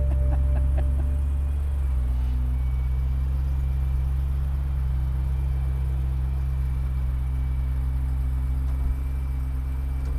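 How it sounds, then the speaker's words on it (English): A 2013 BMW M3 convertible with a removable hardtop runs close by with a deep, steady engine rumble, a few sharp blips near the start, then a sustained even drone with no talk. "Of course, he's got to rev it."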